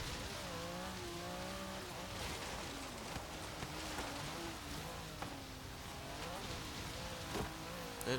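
A 1980 Abarth Fiat 131 built for extreme offroad driving in Forza Horizon 3 splashes through water, its engine note rising and falling under a constant wash of spray and hiss.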